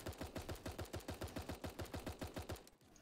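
Rapid automatic gunfire at a shooting gallery in the video game Super Animal Royale, a steady burst of about fifteen evenly spaced shots per second-and-a-half, loud and close, stopping abruptly near the end.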